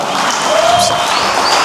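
A church congregation claps together in a short, loud, continuous burst of applause, with faint voices mixed in.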